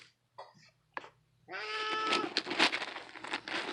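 An old alley cat yowls loudly and insistently at close range, a long harsh bleating cry following a couple of short sounds and brief speech-like noises.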